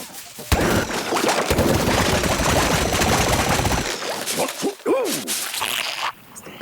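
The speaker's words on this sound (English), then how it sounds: "just launching the entire cobs with a popcorn explosion" In Plants vs. Zombies: Garden Warfare 2, a corn weapon launches whole cobs that burst in a popcorn explosion: a dense, loud crackling barrage for several seconds, then scattered pops and whooshing tails.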